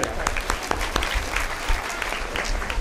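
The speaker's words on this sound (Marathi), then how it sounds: "तिच्यासाठी सुद्धा एक टाळ्या" People at a home Ganesh Purana gathering clap for a woman presenting an oil-painting portrait as a gift, giving brisk, moderately loud applause with some low rumble and voices mixed in.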